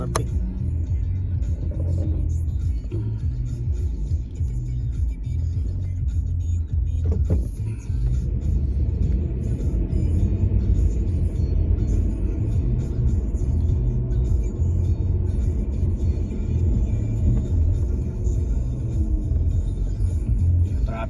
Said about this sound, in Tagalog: Traffic pa dito papuntang Canada Place. Marami pang sasakyan.